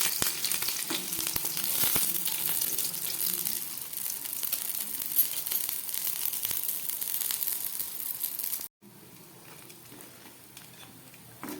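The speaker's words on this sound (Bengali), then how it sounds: "এবার গ্যাসটা মিডিয়ামে দিলাম, দিয়ে আর এক পিঠ ভেজে নিচ্ছি" Pumpkin flower fritters fry in hot oil over medium heat, the second side cooking, giving a steady, close crackling sizzle that continues without a break and drops briefly in level near the end.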